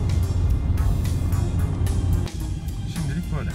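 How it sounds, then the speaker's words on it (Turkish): Inside a Renault Megane 1.6 Joy petrol car on the road, a low engine and tire rumble runs steadily beneath someone talking. "Gerek lastik gürültüsü, gerek motor gürültüsü içeri olabildiğince az geliyor."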